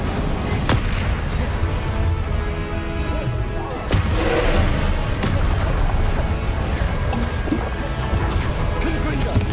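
The Incendio fire spell is cast amid combat in Hogwarts Legacy, with loud, dense booms, crashes and fiery bursts running continuously, including a sharp impact near the middle.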